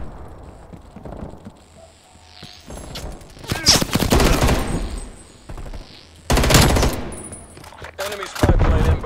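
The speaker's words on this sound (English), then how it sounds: "Yeah, that's a sniper." Gunfire from a Call of Duty: Black Ops Cold War multiplayer match, with a few sharp loud shots and bursts coming in clusters over a steady game backdrop.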